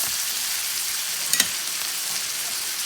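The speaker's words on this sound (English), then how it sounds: "We're gonna let it sizzle and sear on that side." A flat iron steak with coffee rub searing in butter in a Field Co. cast iron pan over medium heat, giving a steady bright sizzle with a couple of sharper pops near the middle, no talking.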